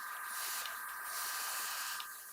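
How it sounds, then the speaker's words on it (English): Close aerosol spraying, a continuous loud hiss held for a couple of seconds with slight swells and a short break. "I'll just spray this first."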